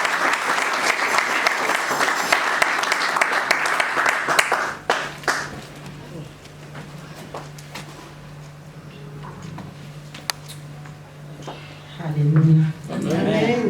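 A church congregation claps for Jesus, with loud, dense applause filling the room for several seconds before fading into a quieter hall with scattered sounds and a voice speaking.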